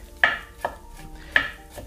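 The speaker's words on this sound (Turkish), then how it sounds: "Hemen diğer yarısını da ince keselim." A knife slices thinly through a red bell pepper on a cutting board, with three crisp, light cuts spaced a moment apart and quieter taps between them, no talking.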